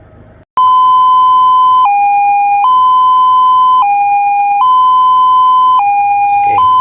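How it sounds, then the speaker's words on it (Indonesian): An ambulance siren alternates between two tones in a steady high-low pattern, loud and close, repeating without pause after a brief quiet start. "bunyi ambulans itu yang standar mestinya adalah yang high-low ya"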